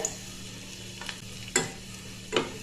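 Asafoetida frying in hot coconut oil in a pan, a soft continuous sizzle broken by a few sharp spatula scrapes and stirs, close by with no talking.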